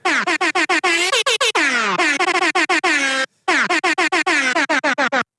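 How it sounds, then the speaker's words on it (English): A super air horn blares in a rapid series of loud, harmonically rich blasts, some held longer, with a brief gap before another burst of quick honks; no talking. "let's give him the super air horn"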